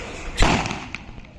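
A sulfur-potash gun fires one sharp, loud blast that booms briefly and then fades into a short echoing tail, with no talk.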